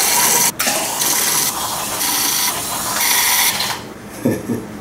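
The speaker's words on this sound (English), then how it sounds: "fill a glass the rest of the way with soda water" Soda water poured into a cocktail glass for a fizz, a continuous loud fizzing pour lasting a few seconds, ending in a few faint clinks.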